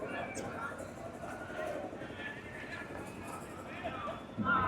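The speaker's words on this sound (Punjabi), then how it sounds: "ਬੜਾ ਚੰਗਾ ਘੋੜਾ ਬਾਈ" A horse at the Jagraon horse fair, among animals offered for sale, is heard faintly within a busy, steady fairground din, with people talking continuously nearby.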